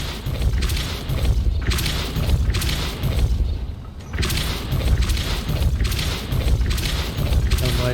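Depulso force spells cast in Hogwarts Legacy, a series of loud booming blasts in a repeating rhythm, each a heavy thump with a crashing tail, separated by brief dips.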